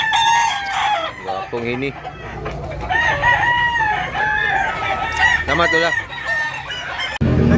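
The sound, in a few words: rooster crowing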